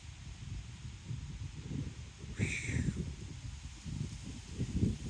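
Wind buffets the microphone on a disc golf course at City Nature Park in DeBary, Florida, in uneven low rumbling gusts, with a brief hissing rustle partway through.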